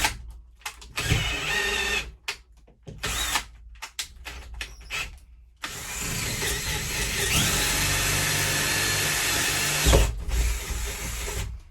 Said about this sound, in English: Make sure your drill's level